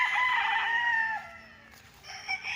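Farm chickens on a fenced rural lot in Liliw, Laguna: a rooster crows loudly nearby, followed by softer clucking, with no talk.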